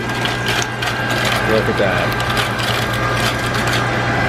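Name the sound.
hospital ice machine dispensing water and ice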